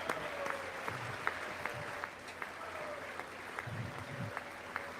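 Scattered applause for a State of the Union speech, broadband and steady throughout, with individual claps standing out over a noisy room and faint voices underneath.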